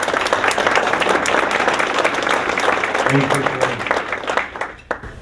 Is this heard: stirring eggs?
no